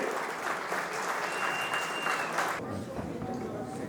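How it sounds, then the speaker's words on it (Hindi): An audience at a school awards ceremony in Nainital, India, applauds steadily with dense, continuous clapping that softens slightly toward the end. "सब लोग जोरदार तालियां बजाइए"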